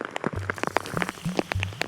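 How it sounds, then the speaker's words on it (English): Rain falls in a Sumatran rainforest, a dense patter of drops striking leaves and surfaces close by, with a low droning hum underneath and no speech. "Nobody told me it rains in the rainforest."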